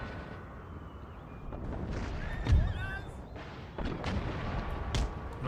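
Cannon fire echoes through an Empire: Total War battle: muffled booms, one heavy thud standing out midway, amid a dense, steady wash of distant gunfire and battlefield noise.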